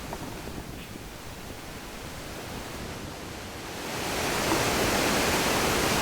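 The Krimml waterfalls roar with a broad, steady rush of falling water that swells noticeably louder toward the end, with some wind noise mixed in.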